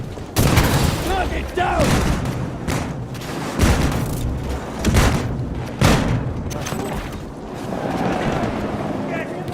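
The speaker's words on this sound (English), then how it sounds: "Grenade out!" Grenade blasts and gunfire on a Battlefield 2042 video game battlefield: several heavy booms land at irregular intervals over a steady rumble of combat, and a voice calls out over the action.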